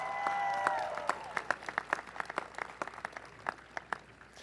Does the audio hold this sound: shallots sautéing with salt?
no